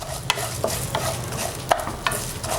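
Coriander seeds and cumin fry lightly in a pan for a dhaba-style chicken gravy, with a low sizzle and several sharp clicks of a spoon stirring against the metal, close and clear.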